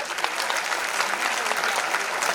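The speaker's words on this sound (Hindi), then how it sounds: "तो आप सबसे पहले अपने लिए एक बार जोरदार तालियां बजाएं" Audience applause at a motivational speech event honouring people on stage, steady dense clapping from a crowd, loud and continuous throughout.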